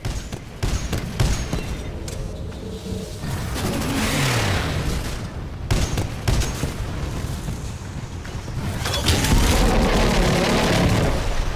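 A Titan's salvo core in Titanfall 2 fires repeated rocket volleys, heard as loud, dense booms and rumbling blasts, with a short break in the middle before the barrage resumes and grows heavier toward the end.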